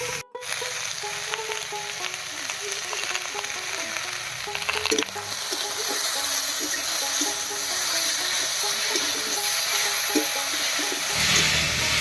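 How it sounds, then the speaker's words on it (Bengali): Chopped vegetables with salt and turmeric fry in a hot pan for a Bengali dried fish and dheki shak dish, a steady, close, loud sizzle running continuously with no talk. "এই অবস্থায় সবজিগুলোকে ভালো করে ভাজা ভাজা করে নেব"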